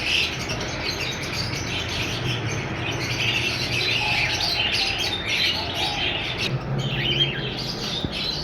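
A breeder pair of ino red-eyed birds in a shop, surrounded by other caged birds, giving dense, continuous chirps and squawks that stay steady and fairly loud throughout, with no talking.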